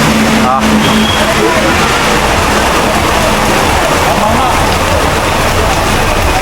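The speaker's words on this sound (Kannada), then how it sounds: "ಒಳ್ಳೆ ಬೆಚ್ಚ ಮಳೆ ಬರ್ತಾ ಉಂಟು" Loud, dense downpour hammering steadily and close by at Gundya, India, a constant roar of heavy monsoon rain with a brief voice near the start.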